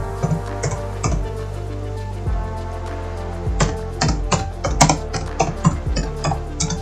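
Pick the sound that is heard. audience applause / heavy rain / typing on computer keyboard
typing on computer keyboard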